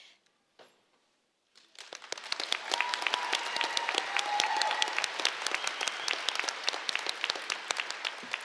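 A large audience applauds at a 2018 FRCC college commencement ceremony, dense sustained clapping that swells after a couple of brief quiet moments and continues steadily.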